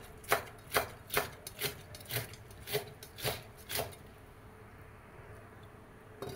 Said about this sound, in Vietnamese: Tiếp đến mình cắt 15 g nấm mèo khô đã ngâm nở ra được nhiêu đây.